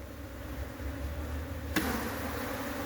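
A swarm of Africanized honey bees, being shaken from an old tomb into a hive box, drones in a continuous dense buzz. It stays steady and close, with a sharp knock partway through and no voices.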